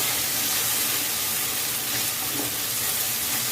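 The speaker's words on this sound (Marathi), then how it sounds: "तर बघा मस्त छान अशा भाज्या पण आता फ्राय झाल्यात" Vegetables with two spoons of ketchup frying in a pan for quick pasta, giving a loud, steady hiss and crackle of sizzling heard up close without pause.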